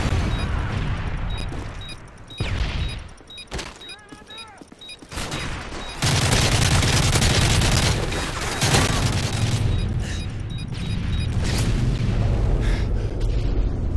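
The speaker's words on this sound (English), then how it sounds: "Friendly airstrike on the way. Friendly predator missile inbound." Airstrike and predator missile blasts in the Modern Warfare 3 video game on the Seatown map, with a few separate booms at first, then dense, loud, sustained rumbling explosions and barrage across the second half, with game voice audio mixed in.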